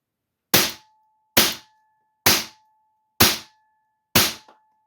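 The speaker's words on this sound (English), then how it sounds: "and we'll fire 5 shots." Five sharp reports from a Feinwerkbau FWB C5 .177 CO2 self-indexing target air pistol, evenly spaced about a second apart, each a loud crack with a quick decay and a faint click after the last shot.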